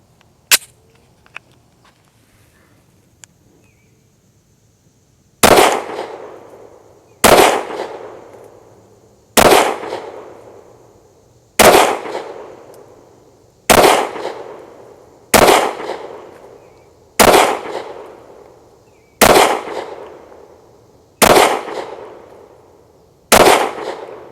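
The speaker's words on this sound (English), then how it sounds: "That's 11 rounds of the Arms Corps 180 grain full metal jackets." A 10mm pistol fires 180 grain full metal jacket rounds outdoors, nearly a dozen loud, sharp shots spaced a couple of seconds apart, each with a ringing decay, after a few faint clicks.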